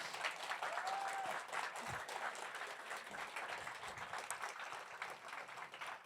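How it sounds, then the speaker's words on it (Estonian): A crowd of children and young people at an Estonian environmental program's closing event in a company headquarters breaks into strong applause, sustained and even, with a faint voice briefly rising above it. "palun, et te nüüd teete nii tugeva aplausi, kui te saate"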